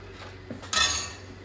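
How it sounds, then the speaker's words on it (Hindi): A metal tawa griddle set down on a stove, a soft knock followed by a brighter metallic clank with a short ringing decay, close and alone. "इधर मैंने तवा जो है वो चढ़ा दिया है"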